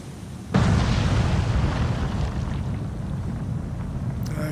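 Torpedo explosion striking a ship in the Cold Waters submarine game, a sudden loud deep blast followed by a sustained, heavy rumbling roar that fades only slightly.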